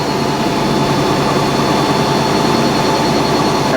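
A Fisher & Paykel washing machine on a fast spin cycle, roughly 600 to 700 RPM, makes a loud, steady motor whir and rumble that holds constant throughout.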